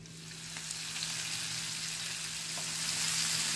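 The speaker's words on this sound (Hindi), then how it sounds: "ये ग्रिलर लिया है, इसके ऊपर थोड़ा सा हम तेल डाल देंगे और हमने ये जो पनीर मैरिनेट किया था वो इसके ऊपर रख देंगे" Marinated paneer sizzles on an oiled griller set over a full gas flame, a steady close frying hiss that swells slightly louder toward the end, with no talking.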